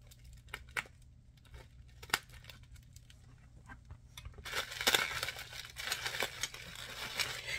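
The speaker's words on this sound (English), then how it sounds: "So I have some scissors here." Scissors snip and rustle at a plastic perfume package, with scattered close clicks and crinkles that grow into denser crackling as the wrapping is cut open.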